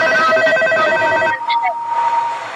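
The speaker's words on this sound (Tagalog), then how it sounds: "Answer the phone." Phone ringing in a night-shift horror video game, heard as steady repeating electronic ring tones that stop midway, followed by a quieter stretch with brief higher chirps.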